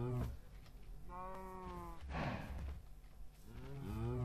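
Several Minecraft cows moo in turn, two or three drawn-out harmonic lows spaced across a few seconds with a noisy burst between them, close by and with no speech.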